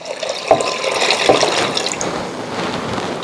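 Water pours steadily into a pot of rinsed, soaked beans, a close, continuous splashing and gurgling with a few sharper splashes near the start.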